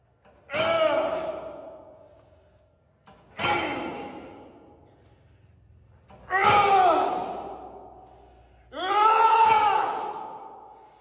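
Someone screams hard while pushing through intense, near-failure weight-training sets. Four long, strained yells come a few seconds apart, each one swelling and then fading out.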